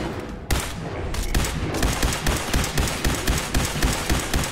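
Rapid gunfire in the Fallout 4 video game, a dense, loud barrage of shots after a sudden start, settling into a steady rhythmic automatic-fire pattern.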